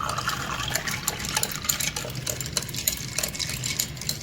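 A spoon stirs masala shikanji, a spiced lemonade made with chilled water, clinking rapidly and irregularly against the glass over a swishing of liquid.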